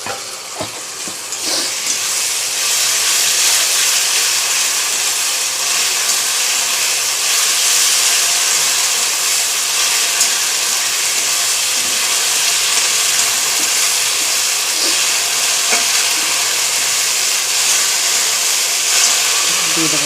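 Onion, tomato, garlic and ginger frying in a pan for chicken kosha, a loud continuous sizzling hiss that stays level, with faint scrapes of stirring near the start.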